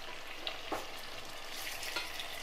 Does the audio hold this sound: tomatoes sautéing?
yes